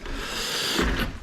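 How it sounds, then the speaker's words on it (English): An old wooden door in an abandoned ghost-town church swings shut with a scraping, rubbing creak that ends in a soft thud, close and moderately loud. "I'm gonna close this door for a second"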